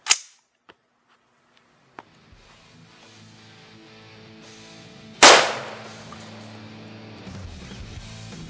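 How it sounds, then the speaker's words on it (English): A CMMG 556 Resolute rifle with a 16.1 inch barrel fires .223 at a row of pavers outdoors: a sharp, loud crack near the start, a couple of fainter ticks, then a second powerful blast with a decaying rumble and debris noise. "All right, now for the 223, I'm shooting my CMMG 556 Resolute."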